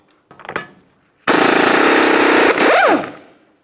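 A loud impact wrench rattles steadily for over a second removing a 30mm axle nut on a 2002-2005 Ford Explorer, then stops and revs again briefly, with some clanking beforehand.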